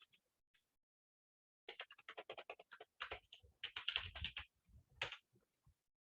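Fingers type on a computer keyboard in a quiet room, a few isolated taps followed by bursts of rapid, crisp key clicks in irregular rhythm, close and clear with silence between runs.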